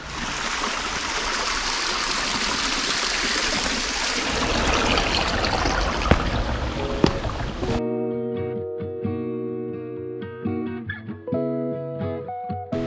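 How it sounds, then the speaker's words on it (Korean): A small stream trickles and burbles steadily beside a hiking trail on Cheonggyesan mountain, close and continuous for several seconds before music takes over. "제 왼쪽 옆으로 개울물이 졸졸졸 흐르고 있습니다."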